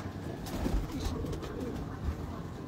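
Champion-sized breeder and high-flyer pigeons coo in a low, throaty, rolling murmur that continues steadily, close and fairly clear, with faint background noise and no talking.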